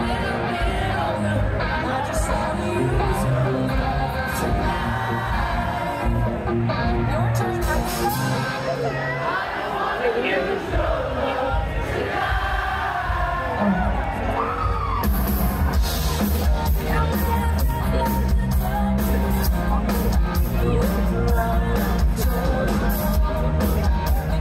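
Large crowd on Fremont Street in Las Vegas watching a cover band, a dense wash of chatter, shouts and whoops with music underneath, loud and continuous.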